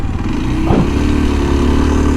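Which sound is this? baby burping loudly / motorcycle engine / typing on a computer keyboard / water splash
motorcycle engine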